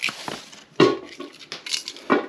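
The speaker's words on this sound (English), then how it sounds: "I'm gonna kind of break them up a little bit" Onions for a 1751 fish chowder are broken up inside a pot, making a few close, crunchy scrapes and knocks in short irregular bursts, with quiet gaps between them.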